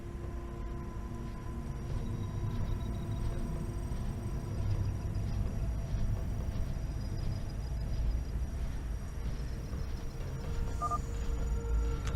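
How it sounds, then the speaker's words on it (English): Incoming call signal tones in StarCraft 2, a steady electronic beeping over a constant hum and whooshing ambience, with no talk. "incoming call from the Imperius"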